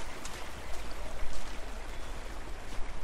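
River water rushes in the video game Far Cry Primal, a steady broadband wash of flowing current that carries on evenly throughout, with no talk over it.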